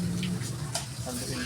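Squid adobo is stirred in a frying pan, a soft, close sizzle with light scraping and gentle clatter of the utensil against the pan, brief and continuous, with no voices.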